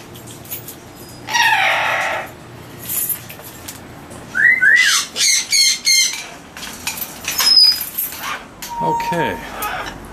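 Parrots in an aviary, including a pair of yellow-naped Amazons, give sharp whistles, squawks and chirps in scattered bursts. Human voices are heard among the calls.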